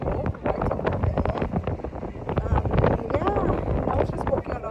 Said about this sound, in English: And yeah, it is windy.